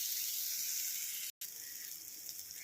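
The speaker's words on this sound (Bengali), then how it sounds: "এটা আমি একটু ভালো করে ভেজে নিয়ে ফেরত আসছি" Lachha semai vermicelli frying in a pan, a faint, steady hissing sizzle with one brief dropout partway through.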